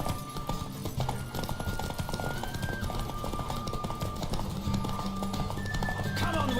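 Rhythmic hoofbeats of a galloping horse in The Witcher 3: Wild Hunt video game, quick and continuous, over a backdrop of music.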